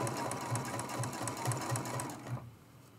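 A sewing machine runs steadily, stitching a turkey mug rug pattern with a fast rhythmic chatter and low pulsing thumps, then winds down and stops near the end.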